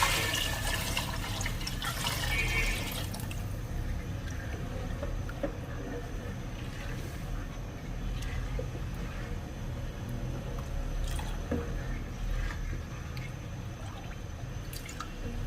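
Kadhi mixture being poured into a cooking pot while a spoon stirs it. Continuous liquid pouring and splashing sounds close by, with light dripping and spoon movement throughout.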